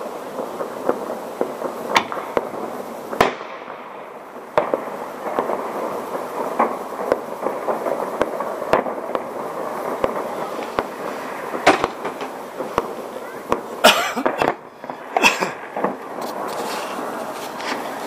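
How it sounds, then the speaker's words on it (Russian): Fireworks salute for New Year going off outdoors, a continuous rumbling crackle with repeated sharp reports and a cluster of loud bangs near the end. "И вот такой салют-фейерверк будет продолжаться"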